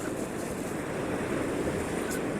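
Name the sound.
ocean waves on a sunrise beach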